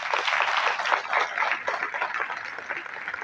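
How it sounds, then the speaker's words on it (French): An audience at a seminar on ethics and professional conduct applauds the organising committee, giving a dense, even round of clapping that lasts a few seconds without a break. "et là je demande qu'on les applaudisse"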